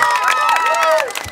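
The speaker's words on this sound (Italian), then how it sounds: "Un applauso!" An audience at a children's choir concert cheers in a brief, loud burst, with high shouting voices rising and falling over crowd noise.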